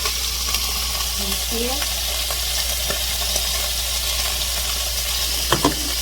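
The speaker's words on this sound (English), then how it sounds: "Like right now, it's starting to boil." A pot of water for white rice comes to a boil with a continuous hissing, bubbling rush and a few light clinks near the end. A voice briefly speaks over it.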